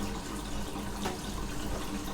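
Water running steadily from a newly plumbed hot and cold tap into a basin, a continuous close hiss and splash with no break.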